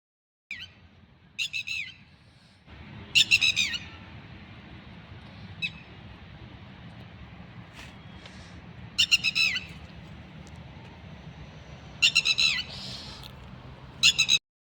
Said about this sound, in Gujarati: બાજુ બધા મોર બોલી હો.